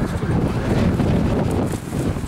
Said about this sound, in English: Man, what that wind just came out of nowhere, bro.